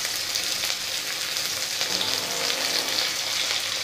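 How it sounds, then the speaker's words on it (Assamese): Potatoes frying in a pan, a dense, steady hiss of oil crackling at close range with no pause, prepared for a Labeo bata fish dish, and no one speaks. "আলুখিনি দি দিছোঁ, অকণমান আলুখিনি ভাজি ল'ম।"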